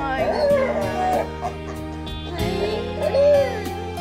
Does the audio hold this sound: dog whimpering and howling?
yes